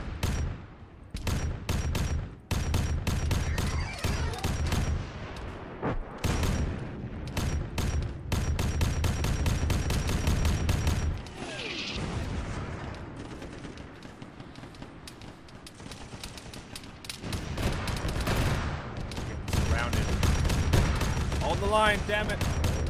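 Heavy bolter fire in the ARMA 3 Warhammer 40k mod, loud rapid volleys of sharp shots in repeated bursts with brief gaps, with a voice talking over parts of the shooting.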